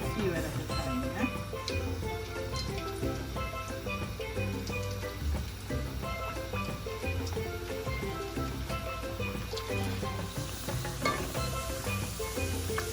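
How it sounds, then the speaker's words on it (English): Potato slices frying a few at a time in hot oil for moussaka, giving a steady, dense sizzle and crackle that runs evenly throughout, with faint talk now and then underneath. "Now we're going to fry our potato."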